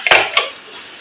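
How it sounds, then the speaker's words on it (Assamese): A metal kadhai is set onto a stove, making two sharp metallic clanks close up, the first louder, followed by a brief fading ring. "কেৰাহী বহাই দিছে।"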